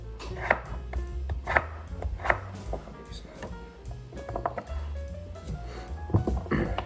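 A knife chops russet potatoes on a cutting board in a home kitchen, with repeated knocking cuts at an uneven pace, fairly close and moderately loud, amid light handling noises.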